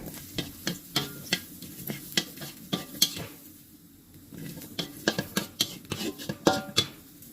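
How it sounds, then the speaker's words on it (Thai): Shallots and large-cloved Chinese garlic are dry-roasted in a pan, stirred with a utensil that knocks and scrapes in a quick rhythmic run of clacks, pausing briefly midway before resuming. "ที่ ใช้หอมแดงกระเทียมแล้วคั่วให้สุกแบบนี้นะคะ"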